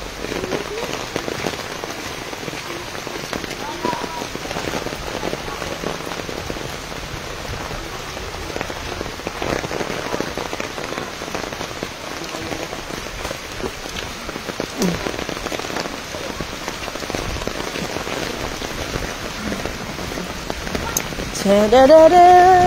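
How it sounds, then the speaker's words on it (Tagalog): Steady typhoon rain pattering on a surface, a dense even wash of drops throughout, with faint voices now and then underneath. "Jamie LV, ulan na lang. Ligo na lang kayo ng ulan, wag na dagat."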